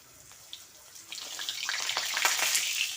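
Dry red chilli and asafoetida frying in hot oil in a kadai, a hissing sizzle that starts soft and swells steadily louder, with a few crackling pops, close by and with no talk.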